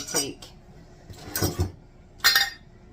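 A knife cuts a homemade Big Boy-style Slim Jim sandwich in half, making three short, quiet clinks and scrapes against a plate, close by and spaced about a second apart.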